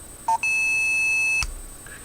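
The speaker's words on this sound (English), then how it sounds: "you get a long beep" A short electronic blip, then one long steady high-pitched beep holding for about a second before cutting off, clear and close.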